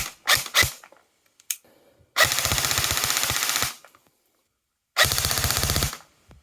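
An airsoft gun fires two loud, rapid full-auto bursts, one lasting about a second and a half and a shorter one later, each a fast, even stream of clattering shots. A few sharper single shots come before the bursts.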